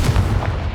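A Confringo spell blast from the Hogwarts Legacy video game lands as a single loud, booming burst, heavy and rumbling, with no talk over it.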